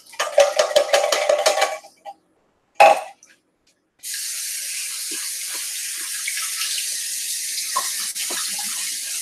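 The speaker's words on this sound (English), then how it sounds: "I'm going to get my colander here. I'm going to actually rinse these beans off and then add them" Canned beans are rinsed in a colander under a running kitchen tap: a burst of splashing and clattering, a brief knock, then a steady close hiss of flowing water that continues to the end, with no talking.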